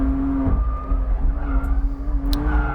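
A 2020 BMW M2 Competition on a race track, its engine droning steadily and loudly throughout with a faint tire squeal as the car slides through a corner.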